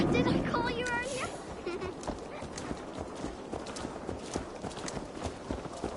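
Horse hooves clip-clop at a steady walking pace in Assassin's Creed Valhalla, close and distinct, with a character speaking over the footsteps for part of the time.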